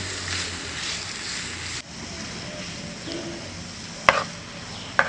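Onions, ginger and garlic sautéing in a pan, a steady soft sizzle with faint stirring and two brief sharp utensil clinks near the end.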